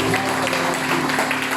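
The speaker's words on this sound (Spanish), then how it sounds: "Dale de nuevo un fuerte aplauso." A church congregation applauds during a sermon, a brief burst of steady clapping from a crowd indoors with a voice over it.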